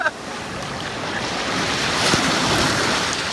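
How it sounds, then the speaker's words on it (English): Pacific Ocean surf washing and rushing steadily around a body surfer, loud and close, with wind buffeting the microphone throughout. "I am in the Pacific Ocean."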